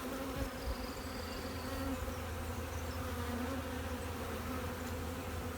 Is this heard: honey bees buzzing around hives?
yes